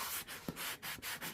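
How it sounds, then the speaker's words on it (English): Sanding block scrubbing a glossy paper page, a close rough rasping in quick back-and-forth strokes, each stroke separated by a brief pause, with no speech. "So you just use your sanding block."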